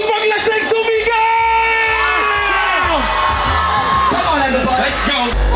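A big crowd at a vape event cheers, whoops and yells loudly and continuously, with voices screaming and shouting on top of one another.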